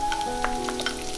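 Pork belly stir-fried with diced shiitake mushrooms and dried shrimp in a wok, a steady close sizzle of hot fat with scraping stirs, while background music plays.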